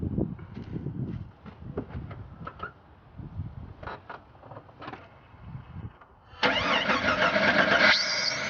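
A 1996 Jeep Grand Cherokee cranks over in a series of uneven starter churns and coughs, then catches and settles into a steady, loud idle near the end.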